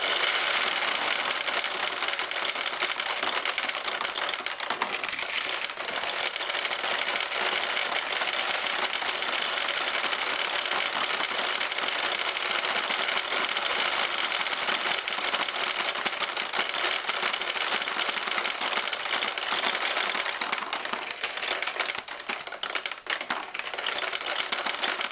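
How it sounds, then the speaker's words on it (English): Pachinko balls pouring out of a restored Nishijin pachinko machine, a dense continuous loud metallic rattling clatter sustained for the whole stretch without pause. "Makes a loud noise, and all the balls are dumped out of the machine"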